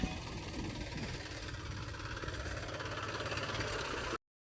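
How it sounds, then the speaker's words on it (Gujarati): A tractor engine chugs and knocks steadily at close range, running evenly for about four seconds before cutting to silence. "ઉપાડો ટ્રેક્ટર."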